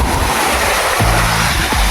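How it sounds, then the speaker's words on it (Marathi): Loud, broad rushing roar of a waterfall close by outdoors, a continuous wash of water noise with low wind buffeting on the microphone. "किती भारी धबधबा आहे."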